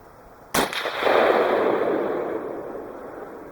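A single rifle shot from a 16-inch barrel firing Winchester white box 5.56x45mm ammunition cracks sharply and close, then rolls into a long, fading outdoor echo, with no talk.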